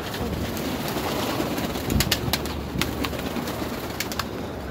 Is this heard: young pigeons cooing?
yes